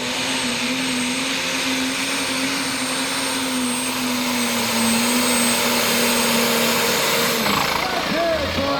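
A spark-plugged diesel pulling tractor roars loud and steady at a truck and tractor pull, a sustained whining engine drone with a rising pitch near the end while an announcer talks over it.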